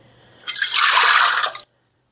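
Water poured into a stand mixer bowl while starting cinnamon roll dough, a steady close splashing pour lasting about a second before stopping abruptly into silence.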